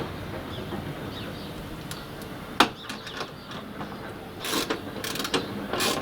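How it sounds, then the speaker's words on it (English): Tightening side step bracket bolts on a Vauxhall Vivaro van, with scattered close metallic clicks and a brief burst of ratcheting near the end over a quiet workshop background. "Just tighten up all the bracket bolts now."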